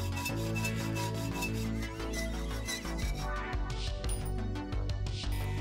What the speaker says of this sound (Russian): Зачищаем заусенцы.